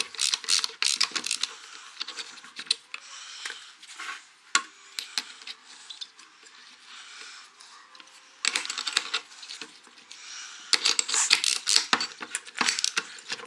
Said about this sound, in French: maintenant je vais installer l'autre fraise